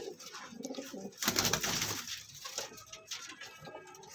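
Pigeons from a flock of twenty strong-boned birds coo in a close, busy loft, with soft repeated coos layered over rustling and light patter, swelling louder in the middle stretch.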